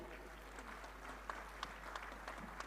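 Faint, steady applause from a conference audience during a felicitation at an international meeting of drug regulatory authorities, a few sharper claps standing out over a low background hum.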